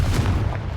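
A Confringo fire spell blast in the Hogwarts Legacy video game: a short, loud, booming burst of explosive noise filling the whole moment.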